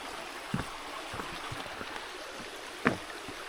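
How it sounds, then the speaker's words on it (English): A small waterfall beside a hiking trail on Isle Royale gives a steady, moderately distant rushing wash of water, broken by a couple of brief knocks and splashes. "A mini waterfall."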